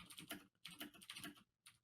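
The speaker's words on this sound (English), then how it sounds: "The mechanical keyboard. Is that a blue switch?" Fast typing on an old Razer BlackWidow mechanical keyboard, close and crisp, in bursts of rapid clicky keystrokes with brief pauses between runs.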